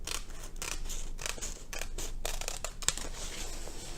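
Scissors trim an aspidistra leaf ribbon for a florist's contemporary arrangement, a quick series of close, crisp snips and rustling cuts spread irregularly across a few seconds.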